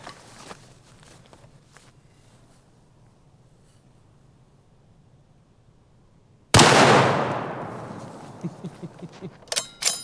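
A .300 Win Mag rifle fires at close range into a spaghetti squash about 10 yards away, one sudden loud blast after a long quiet stretch, its roar decaying for several seconds, followed by a few sharp knocks.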